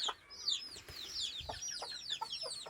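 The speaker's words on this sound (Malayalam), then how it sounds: "ഇവിടെ കുറച്ച് നാടൻ കോഴിക്കളെ വളർത്തുന്നുണ്ട്" Native country chickens clucking nearby, a busy overlapping run of short chirpy clucks and squawks with no one speaking.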